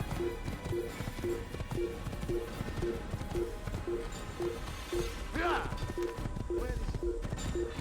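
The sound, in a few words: horse galloping in video game Assassin's Creed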